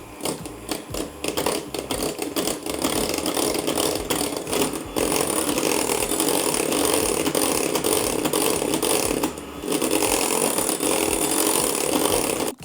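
Electric hand mixer whipping cold whipping cream for a no-bake Nutella cheesecake, a steady loud mechanical whir with a rattling, gear-like texture and a short dip partway through.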